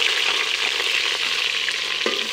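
Chopped onions fry in hot ghee in a pan with a steady, close crackling sizzle, plus a few soft stirring scrapes and no talking.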